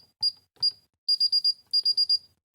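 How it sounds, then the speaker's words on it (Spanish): A Paradox security alarm keypad gives its arming countdown as sharp high-pitched electronic beeps: two single beeps, then two quick runs of four evenly spaced beeps, clear and close in a quiet room. "Me voy a quedar quieto y voy a conectar la alarma"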